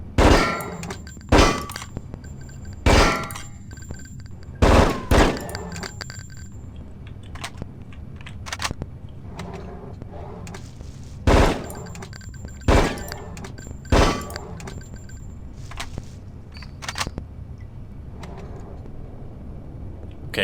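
Gunfire rings out at a training shooting range in the Hitman: Codename 47 video game, with sharp single shots and quick short bursts spaced across the stretch, each followed by a metallic clang, loud and close with no talk.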